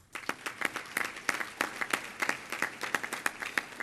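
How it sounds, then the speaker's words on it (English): An audience at a Rochester Rotary award ceremony claps steadily for the honorees, a brisk, even patter of many hands at moderate level with no voices over it. "a round of applause, please, for all of our honorees"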